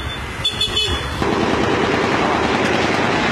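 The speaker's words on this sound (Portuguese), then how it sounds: "Tiroteio se iniciou novamente aqui agora." Rapid bursts of gunfire ring out on a closed city avenue during a street shootout, with sharp cracks early on followed by a loud, dense roar of noise.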